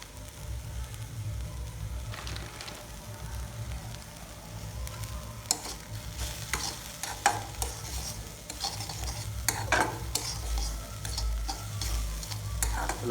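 Egg and soya mixture frying in a pan for egg bhurji, with a soft continuous sizzle under scattered scrapes and clatters of stirring. Quiet, close, no voices.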